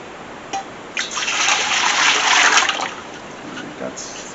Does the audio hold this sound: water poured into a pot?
yes